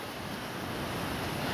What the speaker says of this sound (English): look at the waves coming on, how destructive it must have been